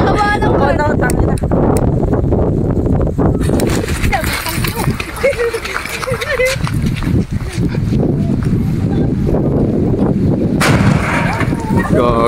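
King Kong firecrackers are test fired outdoors, giving sharp, loud booming blasts, several close together early and another burst later, with people talking and shouting between them.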